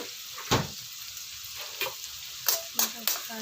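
Red chilli chicken frying in a pan, a steady soft sizzle broken by several louder clatters and scrapes of stirring, close and fairly quiet.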